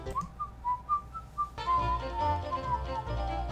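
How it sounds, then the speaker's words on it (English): A character in the video game Oregon Trail 2 whistles a tune in short, clear melodic phrases, alone at first and then over accompanying music. "You're whistling the wrong song"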